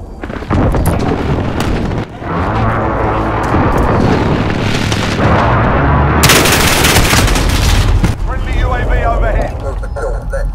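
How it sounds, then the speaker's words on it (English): Precision airstrike in Call of Duty: Modern Warfare in a team deathmatch in the Azhir Cave, heard as loud, dense machine-gun fire and rumbling explosive blasts, with radio voices talking over the barrage. "Be advised, friendly precision airstrike inbound."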